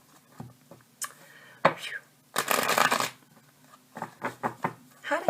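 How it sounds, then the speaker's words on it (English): Tarot cards are shuffled in bursts of riffling and slapping, with several separate flurries of papery rustle close to the mic. A few quieter handling sounds fall between the bursts. "let's go ahead and get a shuffle here"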